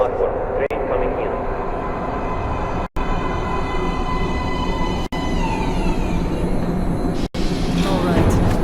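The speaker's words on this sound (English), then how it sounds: "Please step away from the edge of the platform. Train coming in." Underground metro train in Metro Last Light pulling into a station platform, a loud continuous rumbling roar with clattering and high screeching tones, broken by brief dropouts, with voices talking over it.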